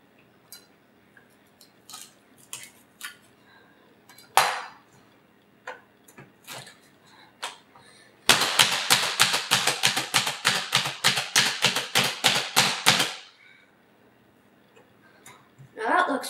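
A knife minces celery for tuna salad on a cutting board: a few scattered taps, then a rapid burst of about twenty sharp, evenly spaced chops lasting several seconds before quiet returns.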